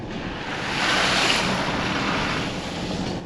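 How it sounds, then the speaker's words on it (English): A vehicle pushing through a deep water crossing in North Queensland, a loud continuous rushing and sloshing surge that swells in the middle and stays steady, with no talk. "Oh no, Bryce, there's a water crossing."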